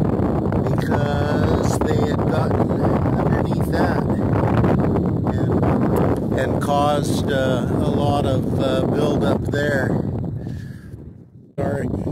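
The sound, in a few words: wind blowing into the microphone outdoors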